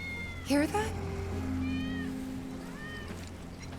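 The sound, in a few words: cat meowing in Final Fantasy 7 video game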